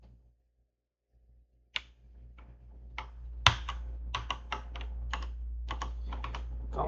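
Computer keyboard typing: scattered, then quicker irregular key clicks, close and fairly crisp over a low steady hum, with no voices.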